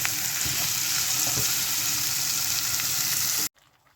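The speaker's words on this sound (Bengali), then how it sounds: "এবার পেঁয়াজ রসুনটা ঢেলে দেব পেঁয়াজ রসুনটা একটু হালকা ব্রাউনি ব্রাউনি করে নিই" Onion and garlic for a khichdi tempering fry in hot oil with a loud, steady sizzle and occasional stirring clicks, then cut off abruptly near the end, leaving quiet.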